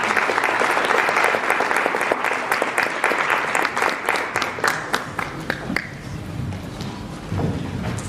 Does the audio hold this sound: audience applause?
yes